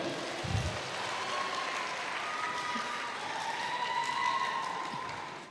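An audience at an international seminar claps for an elderly panelist, a moderate, steady applause heard somewhat distant while a tonal hum or faint voice lingers underneath.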